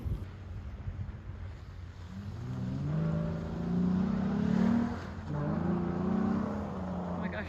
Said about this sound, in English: I personally love the roar that it gives when you open up the throttle